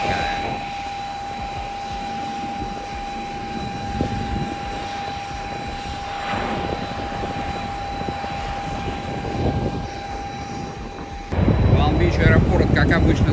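A Cirrus Vision Jet waits at a busy airport with its engine steadily whining and roaring, a constant high tone riding over the rumble. Someone talks over the noise, and near the end a louder gust of wind or engine noise cuts in.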